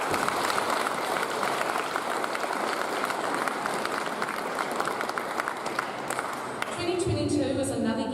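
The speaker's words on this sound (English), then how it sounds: "A round of applause for all of our learners." Sustained applause from an audience at a Year 11 school prize-giving ceremony, steady clapping throughout before it tapers off near the end.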